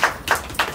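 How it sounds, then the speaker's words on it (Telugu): Three loud, sharp claps ring out at a Christmas celebration, evenly spaced about a third of a second apart, close and crisp with nothing else around them. "గట్టిగా చప్పట్లు కొడదామా?"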